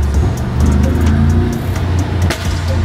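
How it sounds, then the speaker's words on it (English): A tuned Mercedes G-Wagon, a Brabus G800 G63 with aftermarket exhaust and no air filter, idles with a deep, steady exhaust rumble, close by and continuous, with a brief sharper rev blip near the end. "it's got a different exhaust on it"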